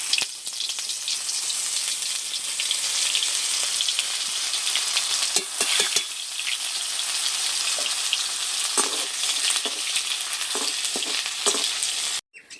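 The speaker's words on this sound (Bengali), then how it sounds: "এই তেলেই দিয়ে দেব কালো জিরে ফোড়ন আর দুটো শুকনো লঙ্কা আর দিয়ে দিচ্ছি আদা" Nigella seeds, dried chillies and grated ginger tempering in hot oil, making a continuous close hiss and crackle with scattered spoon taps and stirring scrapes, before cutting off abruptly at the end.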